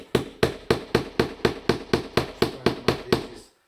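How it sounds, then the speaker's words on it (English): A small screwdriver taps against a fire surround board in a quick, even series of about a dozen sharp knocks, close and clear, ending abruptly. "So I'm going to just use a little screwdriver, give it a bit of a tap."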